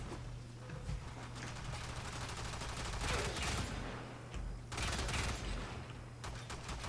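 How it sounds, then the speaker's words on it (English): Sarpa gunblade charged attacks fire in bursts in Warframe, dense crackling blasts layered over continuous game noise, loud throughout with two stronger surges. "That's only 2 bursts there, 2 charge attacks, and that enemy is dead."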